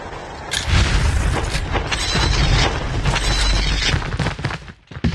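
Video game gunfire: booming shots and rapid bursts with mechanical clicks and ratcheting weapon handling, loud and close, running continuously for several seconds.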